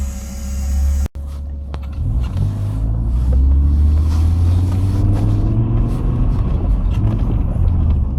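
An Audi 90 20v 2.3 pulls away and drives, its engine rumbling close from inside the cabin after a brief thud, with rising revs through gear changes over a steady road drone.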